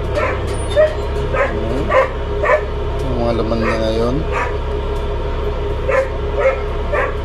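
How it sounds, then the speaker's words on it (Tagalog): Several dogs bark and yip repeatedly in the background while a person talks over them, with a brief whimpering whine in the middle. "Sensya na ho at maingay at may mga aso."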